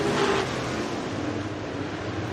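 A race car engine drones past at Boone Speedway in Iowa, a short steady roar with a brief tonal whine at the start, then a sustained, even rumble.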